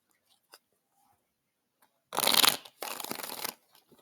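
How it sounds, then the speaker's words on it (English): Two quick bursts of tarot cards being shuffled, a crisp riffling flutter up close, each lasting about half a second, with brief quiet ticks before and after. "If it would let me shuffle these all out, that would be great."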